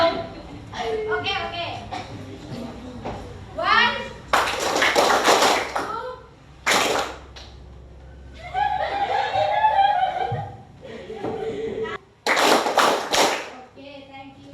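A teacher's classroom clapping routine: several short bursts of hands clapping in unison, some sharp and brief, one longer round, mixed with students' chatter and chuckles, with a voice counting aloud between.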